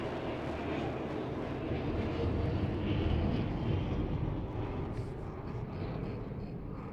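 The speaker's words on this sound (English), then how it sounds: "And here he'll fly by 180 kilometers an hour." A small aerobatic plane at an air show in Kristianstad, Sweden, flying past at about 180 km/h, a continuous loud engine roar that swells slightly mid-pass and then eases off.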